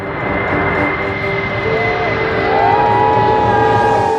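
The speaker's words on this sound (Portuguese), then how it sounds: "O Stratolaunch Model 351 é um avião de transporte estadunidense." A Stratolaunch Model 351 twin-fuselage transport aircraft drones steadily in flight, a loud sustained engine hum with rising and falling tones and no talk.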